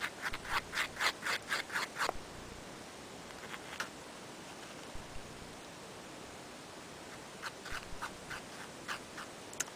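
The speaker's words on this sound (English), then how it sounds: "I'm actually going to mix the rest in the lid." Homemade lip gloss is stirred in a jar lid, giving a quick run of rhythmic scraping strokes up close, then a pause before a few more scattered scrapes.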